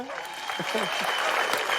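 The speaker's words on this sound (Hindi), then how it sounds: "इनके लिए भी जोरदार तालियां" Audience applause on a television comedy talk show, steady broadband clapping that holds for the whole moment, with a voice speaking over it.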